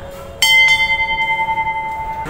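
A metal temple bell is struck twice in quick succession, then its bright tone rings on and slowly decays with a pulsing shimmer.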